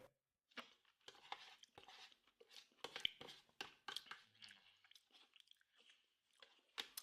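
Someone eats German army MRE ration food, with close, crisp crunching and chewing in irregular bursts of bites separated by brief quiet pauses.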